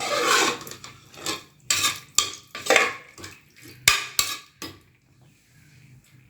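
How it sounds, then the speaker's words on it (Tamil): Vegetables stirred with a metal spoon in a pot of water for Mumbai pav bhaji, a run of close scraping and clinking strokes against the pot walls, uneven in rhythm and fading to quiet near the end. "கிளறி விட்டுப்போம்."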